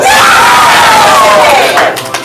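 A theatre audience at a ComedySportz improv show cheers wildly, a loud, sustained roar of whoops and screams that swells and then fades toward the end.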